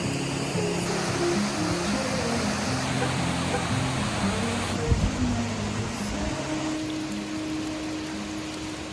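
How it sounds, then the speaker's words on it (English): A waterfall near Valdez, Alaska, a steady broadband rush of falling water heard close and continuous, with faint voices and a brief bump partway through. "You can't drive to Valdez without stopping at the beautiful waterfalls."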